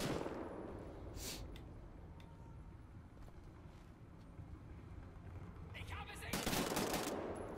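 Gunfire in the video game Wolfenstein: The New Order, a busy stretch of repeated shots and bursts with a louder flurry near the end, set among game ambience.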